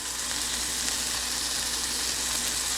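Food frying in butter in a pan for a big breakfast gives off a loud, steady, dense sizzle that holds unchanged throughout, with no voices.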